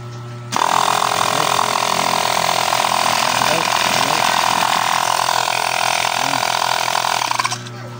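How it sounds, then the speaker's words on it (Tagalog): A smart wireless air pump's motor starts, runs at a steady loud drone for about seven seconds, then cuts off, close by with no voices. "So try natin guys kung kumagana ba yung kanya motor niya guys."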